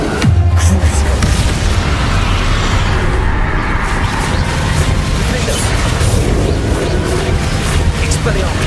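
Confringo spell explosions boom in Hogwarts Legacy, with loud, dense, continuous blasts and crashing debris layered over game music and effects, while voices speak throughout.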